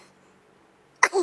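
A single sharp sneeze bursts out close by after a near-silent pause, a quick loud blast followed by a shorter breathy tail.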